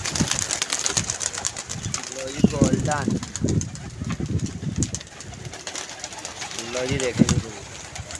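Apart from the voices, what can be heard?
pigeons cooing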